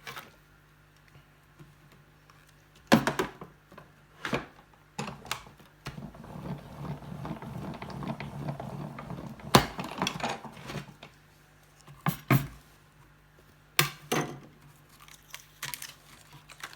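Scissors cut a zigzag strip from paper or card: scattered crisp snips and rustles, some sharp and close, separated by quiet pauses and a stretch of softer handling.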